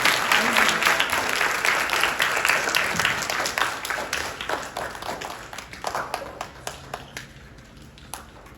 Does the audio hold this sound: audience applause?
yes